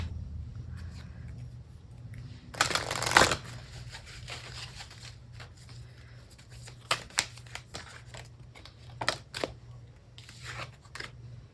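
Chibi anime angel oracle cards are shuffled by hand in a quiet room, with a loud riffling burst early on followed by scattered soft flicks and card taps.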